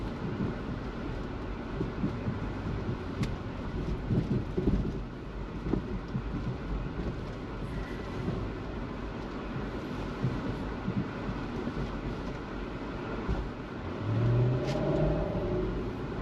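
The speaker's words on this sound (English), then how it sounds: "we're going to take it for a spin and see if we lost any kind of get up and go" A Lexus GX470 with an Eibach lift and FN wheels drives down the road, its engine and tire rumble a steady low drone with wind buffeting the microphone.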